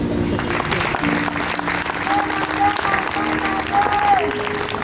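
A church congregation applauds and cheers steadily for several seconds, with clapping filling the space and some voices and sustained tones rising above the crowd.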